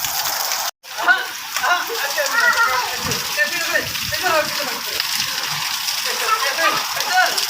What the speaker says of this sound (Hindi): इतनी ज़्यादा बारिश हो रही है, तूफ़ानी बारिश।